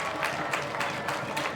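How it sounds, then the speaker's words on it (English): High school football crowd at a 2007 season opener, Windsor vs DeSoto, cheering and applauding before the kickoff, a dense, steady wash of clapping and distant voices with no break. "start to get on their feet a little bit, cheering on the start to the 2007 season"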